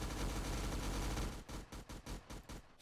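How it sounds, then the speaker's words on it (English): Rapid bursts of video game gunfire, a dense sustained roar that breaks into a rhythmic string of about eight sharp, loud shots toward the end. "Gonna shoot him in the bum."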